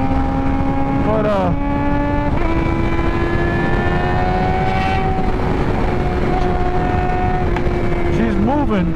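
A Suzuki GSX-R 600 motorcycle with a Heal Tech quickshifter screams at high RPM, a loud, steady engine whine that steps in pitch through quick gear changes over constant wind rush.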